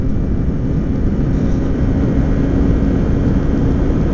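A 2007 Kawasaki Ninja 250 motorcycle engine pulls steadily up a hill in cool weather, giving a constant, loud droning hum with a low rumble and no breaks.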